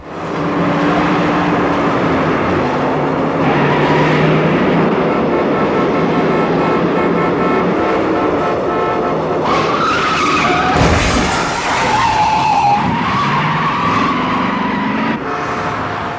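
The car chase from the French Connection film fills the scene with loud, continuous engine roar and squealing skidding tires, a rumbling train-like din and a sharp crash-like burst partway through, with no voices.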